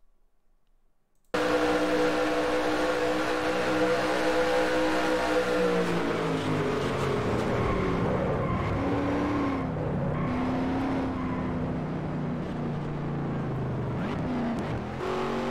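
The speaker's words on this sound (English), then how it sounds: "Let's go on board with the 14 of Colton Yo" A race car engine roars loudly and continuously onboard in a NASCAR-style racing video game at a super speedway, holding a high, steady drone with slight pitch shifts as the car runs flat out.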